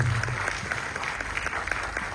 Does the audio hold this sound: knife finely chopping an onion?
no